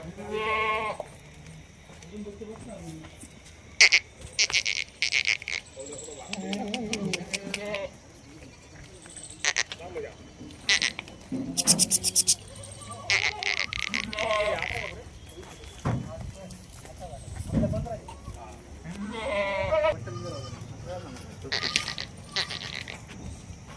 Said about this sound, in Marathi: हे बघा शेळींचे ऐकले.